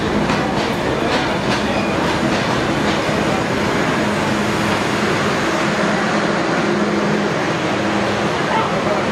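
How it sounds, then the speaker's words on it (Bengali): A passenger train bound from Dhaka rolls along the rails, giving a loud, steady rumble with a faint clickety-clack rhythm that runs without a break for the whole stretch. "এই ট্রেনটি ঢাকা থেকে রাজশাহী যাবে।"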